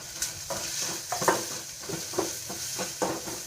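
A spoon scrapes and stirs onions frying in a pan, giving rhythmic clinking strokes about twice a second over a steady background sizzle, with no talking.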